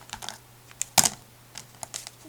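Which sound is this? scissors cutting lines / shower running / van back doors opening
scissors cutting lines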